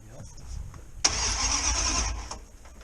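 A Dodge Ramcharger engine cranks over after sitting for more than two years: one loud, harsh burst of starter cranking lasting about a second, rising abruptly out of a quiet garage and then cutting off.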